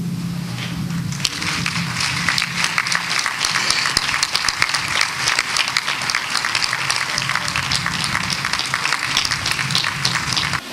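A large crowd gives sustained applause in tribute at a memorial gathering for a musician, dense rapid clapping continuing loudly and steadily throughout with no talk over it.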